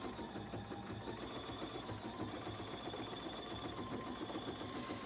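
A BERNINA sewing machine with a number 10 D foot runs with a steady, fast mechanical hum and rapid needle ticking, faint and continuous throughout.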